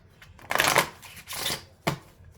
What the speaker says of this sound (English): Your person's shuffles are so smooth, like so smooth.